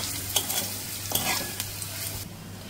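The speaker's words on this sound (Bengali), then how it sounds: "আলুটাও দেখো কেমন লাল লাল করে ফ্রাই হয়ে গেছে।" Potatoes and curry leaves frying in a pan, a close, constant sizzle with a few soft scrapes and taps as the pieces are stirred around.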